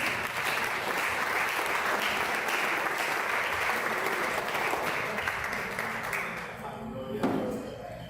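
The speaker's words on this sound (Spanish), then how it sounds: "Den el aplauso al Señor" A church congregation applauds during a service, steady dense clapping that carries on evenly before tapering off, with a voice rising briefly near the end.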